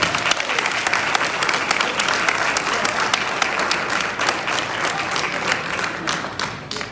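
Applause from a town hall audience at a county budget meeting, dense and steady clapping from a crowd that stays loud throughout and eases slightly toward the end.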